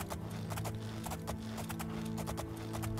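Horse hooves clop in the fantasy role-playing game Oblivion, a quick, steady run of close, crisp hoofbeats over a low background hum and no talking.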